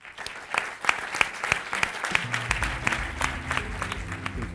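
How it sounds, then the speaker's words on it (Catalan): Audience applause at the opening of the third Energy Efficiency Night gala held by the Catalan Energy Efficiency Cluster, a dense, steady clapping from a sizable crowd that continues throughout without a break. "Endavant, un aplaudiment."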